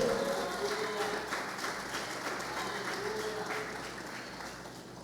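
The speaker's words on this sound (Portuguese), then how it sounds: "Aplauda mesmo." A church congregation applauds during a sermon by Apóstolo Júnior Neri, steady dense clapping filling the room for the full stretch, fairly loud and continuous with a faint murmur of voices mixed in.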